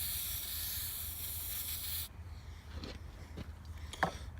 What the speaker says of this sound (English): spray the patch with our rem oil